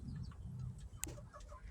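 Chickens cluck softly in a backyard coop, with short, close calls and a single sharp peep over low background noise.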